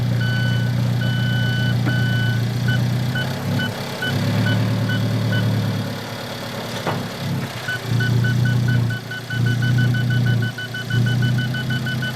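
Inside an Alfa Romeo 4C in reverse, a regular electronic reversing beep repeats steadily over a loud, rumbling idling engine, with the engine note dipping and surging at times.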